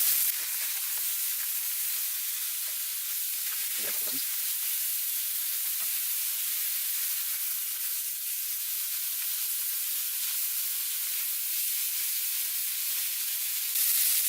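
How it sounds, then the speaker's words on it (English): Meat searing in a hot pan for a Chipotle-style meal prep, a continuous bright sizzle and hiss, close and even throughout, with a faint brief voice-like sound partway through. "try not to really move it around when it's in the pan, because you want to really let it to let it sear"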